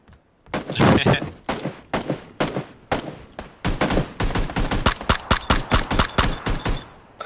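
Rapid automatic gunfire from an AK rifle in the battle royale video game PlayerUnknown's Battlegrounds, with dense overlapping bursts of shots going off loudly and almost continuously, and brief gaps between volleys.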